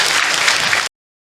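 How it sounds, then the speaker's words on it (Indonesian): Loud, dense applause from an audience at an Islamic religious lecture, a close burst of clapping that runs under a second and cuts off abruptly. "Tepuk tangan dong buat bunda tadi yang bertanya."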